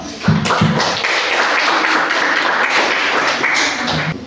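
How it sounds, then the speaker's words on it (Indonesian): Audience applause after a group presentation in a classroom setting, a steady wash of clapping lasting several seconds with a few sharper taps at the start. "Kita beri tepuk tangan untuk"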